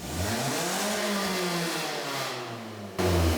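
A Toyota All-Trac's engine drones and revs through a leaky, wire-patched muffler, giving a tinny, buzzy exhaust note that rises and falls steadily before a louder surge at the end, close by with no voices.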